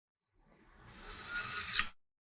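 A kitchen knife blade drawn once through a Brod & Taylor knife sharpener, giving a soft, rising metallic rasp that swells over about a second and a half and ends in a brief bright scrape, close and quiet with no talk.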